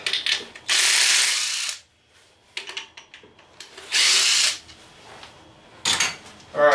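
Ratcheting hand wrench on stuck bolts during an engine teardown, sharp bursts of rapid clicking ratchet strokes separated by pauses, with lighter metallic tool clinks and handling noises between them, close and loud.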